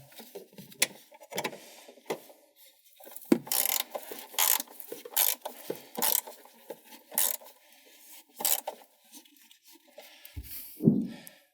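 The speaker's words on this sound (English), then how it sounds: "then just finish tightening it with your socket wrench and extension on 13 millimeter socket." A socket wrench with an extension and 13 mm socket ratchets in short bursts of crisp clicking, tightening a 12V battery bolt in a Volkswagen ID.4, close and loud with brief pauses between strokes.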